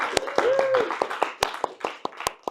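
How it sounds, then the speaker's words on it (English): A handful of sharp, scattered claps ring out close by, with a voice speaking briefly over the first moments. "we can do a clap"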